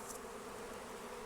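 Bees swarming and clustering at a box make a continuous, even buzz, close and unbroken for the whole short stretch, with no voices.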